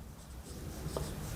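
Chalk or marker scratches briefly across a classroom board while an English narration lesson is being written out. The soft, faint rubbing strokes sit over low room noise.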